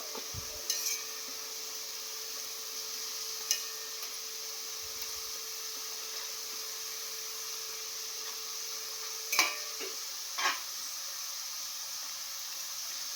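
Jackfruit chips fry in hot oil over a full gas flame, a faint steady hiss and sizzle with a few soft scraping stirs scattered through.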